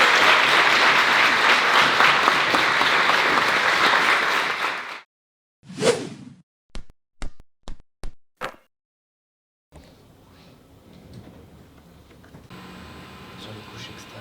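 A crowd gives loud applause for a UFC fighter and an Ares MMA fighter in France. The clapping lasts about five seconds and stops abruptly. A few sharp, isolated knocks and clicks follow, then faint background noise.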